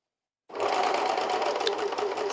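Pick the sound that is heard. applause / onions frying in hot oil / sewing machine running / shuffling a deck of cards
sewing machine running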